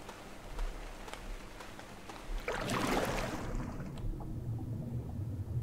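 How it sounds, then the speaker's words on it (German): Rain falls in the ARK video game world, a steady hiss of drops on surfaces that swells to a denser rush midway and then eases back, with no voices over it. "dass es hier auch regnet"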